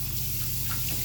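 Water runs steadily from a bathroom tap, rinsing a freshly shaved face, a continuous close splashing flow with no talk.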